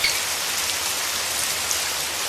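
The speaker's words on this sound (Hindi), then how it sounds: "अरे पता नहीं ये बरसात ना जाने कब बंद होगी" Cartoon rain falling steadily, a dense even hiss of drops on a surface with a few brighter drips, heard alone.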